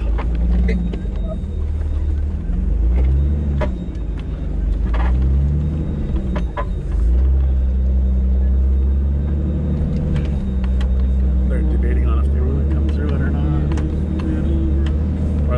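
An off-road vehicle crawling a rocky trail in four-low, its engine rumbling steadily up close with load changes as gears shift, while people talk over it throughout.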